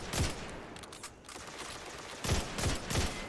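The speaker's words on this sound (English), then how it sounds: "You'll notice the Overload Captain's shots are just so much more frequent than anybody else's." Rapid gunfire from an Overload Captain enemy in Destiny 2 sounds as clusters of quick shots, a burst at the start and two more near the end, fairly quiet against a hissing backdrop.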